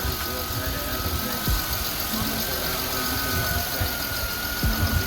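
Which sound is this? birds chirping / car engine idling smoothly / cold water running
car engine idling smoothly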